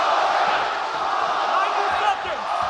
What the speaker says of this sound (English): Crowd getting behind Holloway here late in round 2.